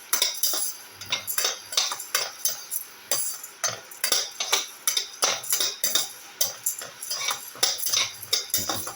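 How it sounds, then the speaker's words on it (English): Spices roasting in a pan on low heat for an ancient Chera-style spiced meat rice, stirred with a steady rhythm of metallic scrapes and light clinks, close and fairly loud, with no talking. "And roast them for 5 minutes"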